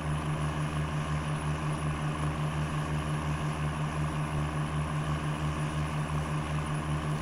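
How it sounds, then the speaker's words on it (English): A 1993 Dodge Ram Cummins truck mod in SnowRunner grinds through mud with its underside scraping, a steady, loud diesel engine drone with a pulsing low rumble throughout. "it's probably grinding out on the bottom of the vehicle a little bit"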